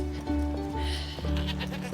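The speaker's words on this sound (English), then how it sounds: "You need to curb your goats." Goats bleat loudly and close by, several overlapping wavering cries in quick succession.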